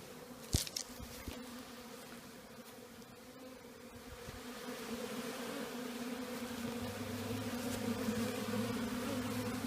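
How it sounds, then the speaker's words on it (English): A low, steady buzzing of many honey bees hums throughout around a hive box, growing a little fuller over time, with a brief knock near the start. "so a lot of bees are coming back and they're investigating this box."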